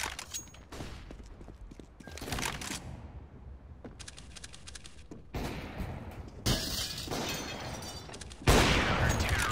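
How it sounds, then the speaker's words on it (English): A flashbang grenade in CS:GO thrown during a match, heard as loud bursts of noise with a sharp, bright blast and shattering effects. Several loud chunks are separated by brief gaps, with a big final burst near the end. "Throwing flashbang."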